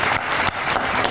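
Applause sound effect on a Georgian comedy show, a dense burst of audience clapping that fills the whole moment with a brief dip midway, loud and steady with no talking over it.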